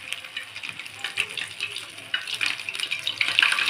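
Balls of kneaded dough for a Bengali home recipe frying in hot oil, a steady close crackle and sizzle that grows louder toward the end, with no talking.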